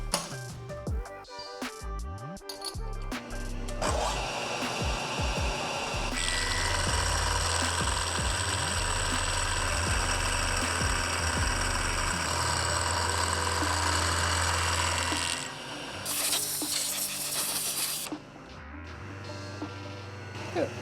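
A milling machine with an end mill cutting a motorcycle foot peg for an Aermacchi, a steady loud mechanical whir and grinding that rises and holds, then shifts pitch near the end, with clanks at the start.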